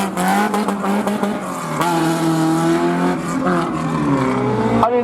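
A rally car launches at the Lessay slalom in 2023, its engine note droning steadily with rising, sweeping harmonics, loud and close for several seconds before cutting off abruptly near the end.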